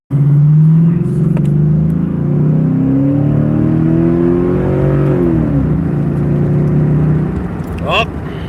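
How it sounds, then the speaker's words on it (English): A car launched hard in a first gear pull from a red light, a loud, close engine roar rising steadily in pitch before dropping as the throttle lifts, then settling into a lower drone. "All right, let's do a first gear pull."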